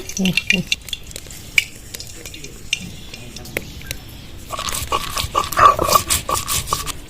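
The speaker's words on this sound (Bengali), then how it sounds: "তেলের মধ্যে একটা কাঁচা লঙ্কা ফাটিয়ে দিয়ে দেবো" A green chili bursts in hot mustard oil in a kadai while cooking Bhola fish in mustard sauce: scattered sharp pops first, then a dense, loud crackling sizzle.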